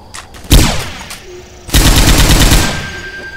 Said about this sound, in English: Grabbing the chain gun.